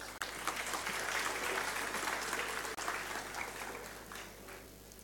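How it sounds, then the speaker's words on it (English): Conference audience at an academia–industry session applauding a speaker's introduction, a dense steady wash of clapping that fades toward the end. "With a huge round of applause,"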